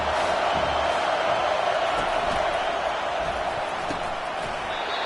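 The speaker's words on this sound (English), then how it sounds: "The crowd getting behind this defense as they try to get a stop in the red zone." Stadium crowd in an American football video game, a steady dense roar of cheering fans rallying behind the defense in the red zone, continuous and loud throughout.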